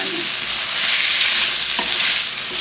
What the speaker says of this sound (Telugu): వేయించుకోవాలి ఈ నెయ్యిలో ఆయిల్లో వేగితేనే ఫ్లేవర్ అనేది బాగుంటుంది అడుగు పట్టకుండా చక్క చూసి కలుపుకోవాలి